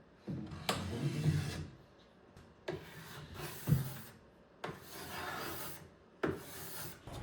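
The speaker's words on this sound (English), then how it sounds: "I use a combination of a card scraper and a scraper plane to remove the finish" Repeated rasping scrapes of a card scraper removing old finish from a wooden tool chest, four or five strokes in a steady rhythm, close and fairly quiet.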